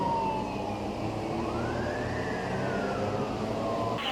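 A faint police car siren rises and falls slowly in the distance beneath steady traffic and engine rumble, with no one speaking.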